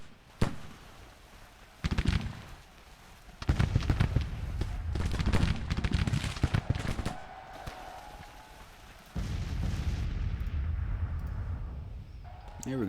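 Musket volleys and artillery booms from a Civil War battle video game set in the summer of 1861, sounding in dense, overlapping bursts of shots and blasts that swell and fade, with a voice talking over the gunfire.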